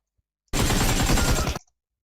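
A single burst of rapid automatic gunfire from the mobile game BGMI lasts about a second and is loud and dense, with sharp onset and cutoff. Quiet stillness comes before and after it, and no voices are heard.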